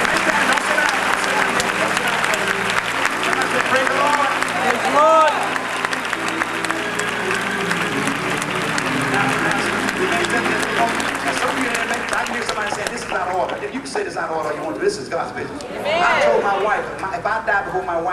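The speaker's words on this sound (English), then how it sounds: "Now I want the rest of you to clap your hands and praise God." A church congregation at a funeral service claps hands in praise, loud sustained group clapping with voices and shouts mixed in, the sound thinning briefly near the end before swelling again.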